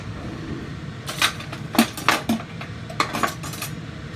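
Seasoned potatoes are tossed in a dish with a utensil, giving a handful of quick clinks and scrapes against the dish, close and moderately loud, in short irregular bursts.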